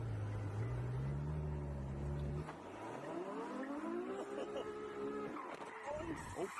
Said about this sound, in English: How do you lose control in a Ferrari?